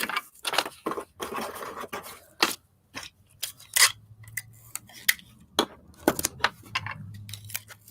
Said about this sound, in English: I'll have to trim that with scissors.